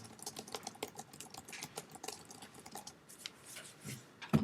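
Rapid clicking of computer keyboard keys, an uneven run of light close taps throughout, with no voices over it.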